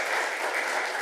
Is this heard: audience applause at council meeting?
yes